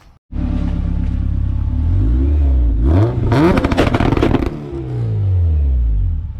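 A K-swapped car launches hard on launch control, its engine revving loud and close through several rising gear pulls with a raspy, crackling peak in the middle before it settles to a steady drone.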